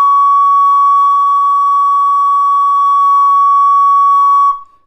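A recorder holds one long, steady, pure note at an even loudness for about four and a half seconds, then stops cleanly. No one speaks.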